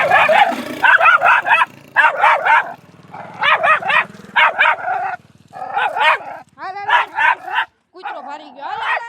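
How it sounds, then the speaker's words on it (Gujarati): A dog barks in repeated loud, close yelping bursts, some high and whimpering, with short pauses between volleys, while people talk nearby. "કૂતરો ભારી ગયો"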